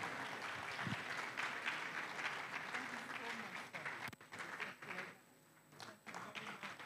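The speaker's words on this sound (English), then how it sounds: "Let's clap for Prof." A ceremony audience at KNUST claps in honour of a professor being presented an adornment, a sustained patter of hands that thins out toward the end, with some voices mixed in.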